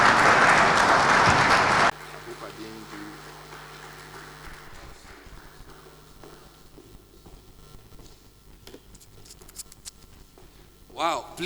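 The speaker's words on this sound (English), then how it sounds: "please give Ellie another round of applause" An audience at the 2021 MTN MoMo stakeholder forum applauds loudly and densely for about two seconds, then it stops sharply. Someone speaks afterward over quiet room tone.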